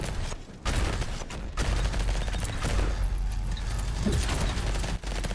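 Rapid automatic gunfire from a machine gun in the Vampire Hunters video game, a loud dense rattle of bursts running nearly the whole time with a brief gap near the start.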